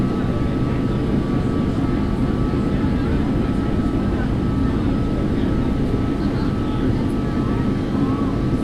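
Steady drone of Airbus A330-200 jet engines in a flight simulator game, a constant broadband roar with a faint steady tone above it, running unbroken throughout.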